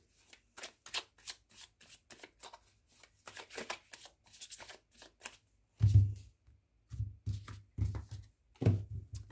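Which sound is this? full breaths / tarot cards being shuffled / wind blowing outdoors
tarot cards being shuffled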